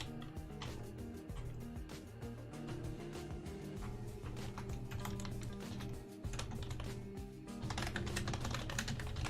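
Quiet, rapid keystrokes on a computer keyboard patter irregularly throughout, with brief bursts and pauses of clicking over a soft background hum, no voices.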